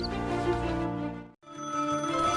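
A telephone at a residence rings in two loud, clear electronic bursts separated by a brief silence, heard alone.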